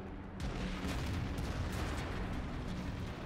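A T22 medium tank's cannon fires in a tank video game, opening with a heavy boom that gives way to a dense, sustained rumble of battle noise.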